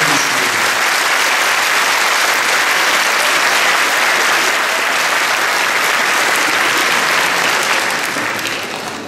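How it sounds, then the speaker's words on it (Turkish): An audience at a Caucasian cultural night gives long, loud, sustained applause, a dense wall of clapping that tapers slightly at the very end. "Lütfen uzunca ve iyi bir alkış hak ettiklerini düşünüyorum."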